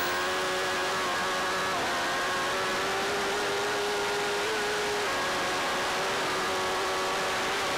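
A Honda Fireblade superbike accelerates hard on a TT course, a loud, continuous high-revving engine whine with steady harmonic tones buried in heavy wind roar.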